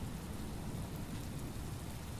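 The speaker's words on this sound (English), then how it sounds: "The sultry sound of the storm." Steady, dense rain from a storm hisses continuously in the video game Hob's Barrow, a low rumbling wash with no breaks, heard alone.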